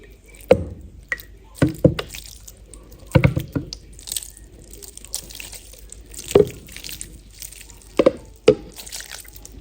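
Rice-cooking water, milk and saffron liquid poured in short bursts onto kacchi biryani, with several wet splashes and drips spaced a second or two apart over faint background noise.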